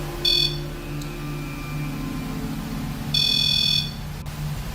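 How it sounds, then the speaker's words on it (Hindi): Strange radio-like tones from a spirit box tuned in inside the Bellair House, with two loud bursts of layered electronic beeping over a steady droning hum and low static rumble. "लोरी उस स्पिरिट बॉक्स को ट्यून इन कर देती है जिसमें से रेडियो टाइप की कुछ अजीब सी"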